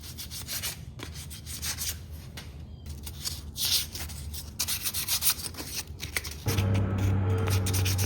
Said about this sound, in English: I'm going to use polyurethane and do a light sanding in between coats